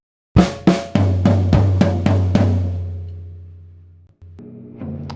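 A drum kit plays the second half of a snare and floor tom exercise: a few sharp snare strokes followed by a quicker run of resonant floor tom hits that ring out and decay, then softer strikes near the end.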